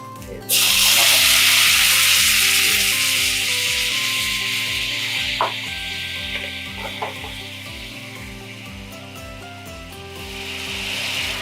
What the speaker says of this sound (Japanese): タレを絡めるように 焼いていきます